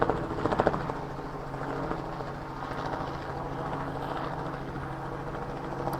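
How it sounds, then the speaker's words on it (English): A helicopter passes overhead in front of Union Station, its steady rotor drone holding at an even, fairly loud level for several seconds, with a slightly stronger thump at the start and no talking. "There's a helicopter."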